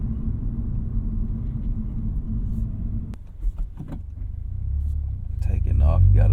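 A 2025 Toyota GR86 Hakone Edition idles with a low steady rumble, then its engine note rises as it pulls away from a stop, heard from inside the cabin.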